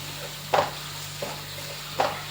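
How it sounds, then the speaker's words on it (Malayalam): Chicken kurma with pepper powder and green chillies being stirred, three brief spoon scrapes against a pan over a steady low hum, quiet and close, no talking. "ഇതെല്ലാം കൂടെ ഒന്ന് ഇളക്കി യോജിപ്പിച്ചെടുക്കാം"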